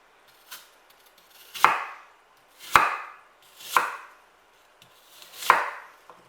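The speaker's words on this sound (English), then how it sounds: "And then we just want to chop them up into small cubes." Cored fruit is chopped into small cubes on a cutting board, four sharp knife thuds spaced about a second apart, close and clear with quiet between strikes.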